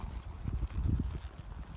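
Hooves of a mare clip-clop on wet grass in an irregular quick rhythm, close and fairly soft, with no talk.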